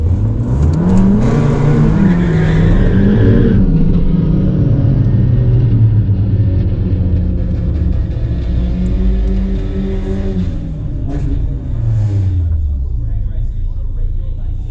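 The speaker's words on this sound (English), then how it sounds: "about to set up for the burnout in run 2" A Revo Stage 2 car at a quarter-mile drag strip doing a burnout before a run, a loud, close engine roar with rising and falling revs and rumble, held steady for the whole stretch.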